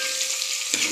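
Onions frying in a pan, a steady close sizzle with a short louder stirring burst near the end.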